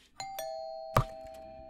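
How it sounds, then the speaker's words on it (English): A doorbell in the horror game Fears To Fathom rings with two soft chimes followed by a louder, sharper ding whose tone lingers and slowly fades in a quiet room. "If they ring the doorbell one more time, I'll go check."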